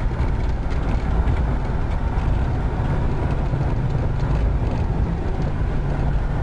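A 1978 Ford LTD is driven, its cabin filled with a steady, dense road and engine rumble, loud and unbroken throughout, without clear gear changes.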